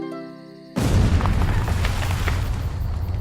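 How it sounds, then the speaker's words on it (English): A loud, close explosion in a video game booms out suddenly after a quiet musical lead-in, followed by a sustained rumbling roar with crackling debris that carries on to the end. "Who needs shovels when you have explosions?"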